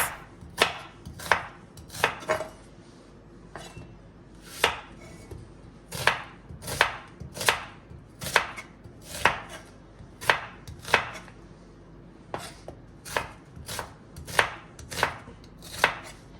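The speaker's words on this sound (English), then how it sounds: "I'm going to go ahead and slice about 3 medium size of yellow onions" A knife slices about three medium yellow onions on a cutting board for a palm oil stew. Crisp, rhythmic chops land one after another at a steady pace, close by and clear, with no talking.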